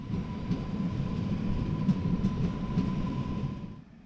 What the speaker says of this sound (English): our train is pulled into the platform from the sidings.